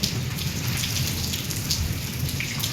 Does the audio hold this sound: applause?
no